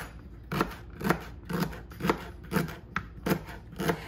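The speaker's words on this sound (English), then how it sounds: "Cut off right behind that and then slice." A knife slices through celery on a cutting board in eight crisp, evenly spaced cuts, close and fairly quiet, with no talking.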